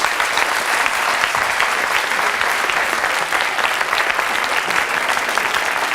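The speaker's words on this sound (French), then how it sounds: "Isabelle et Gérard, qu'on peut applaudir très fort." Loud, dense applause from a large television studio audience, continuous and even throughout, with no voices standing out.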